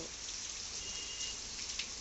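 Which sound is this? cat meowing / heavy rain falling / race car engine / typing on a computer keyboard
heavy rain falling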